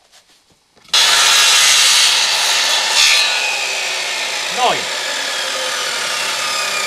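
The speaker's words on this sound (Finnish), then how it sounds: "Tää on vähän kova ääninen tää sirkkeli." A loud circular saw cuts a notch into wood outdoors, its steady whine starting abruptly and holding high and harsh for several seconds, with a brief word spoken near the start.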